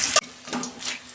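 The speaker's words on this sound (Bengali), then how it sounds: "পেঁয়াজটা 2 মিনিট ভেজে নেব।" Onions salted lightly and frying in a pan give a short close sizzle, opening with a sharp scrape of a spatula followed by softer stirring sounds, no voices.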